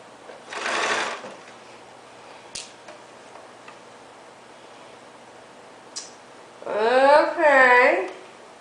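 A sewing machine stitches a set-in sleeve into a garment in short, close bursts of fast mechanical whirring, with quiet pauses, small clicks and handling sounds between runs.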